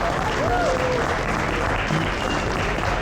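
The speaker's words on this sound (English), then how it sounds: "Big round of applause." A dense, steady round of crowd applause fills the hall at a state arm-wrestling championship, loud and unbroken for the full stretch, with a faint voice briefly audible beneath it.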